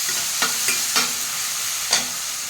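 Ginger garlic paste fries in a pan for potato fried rice, a bright, steady sizzle punctuated by four sharp utensil scrapes as it is stirred, close and without speech.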